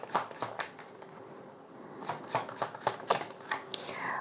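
Tarot cards being shuffled and drawn, giving a run of crisp papery riffles and flicks that come in irregular bursts, with a brief lull partway through.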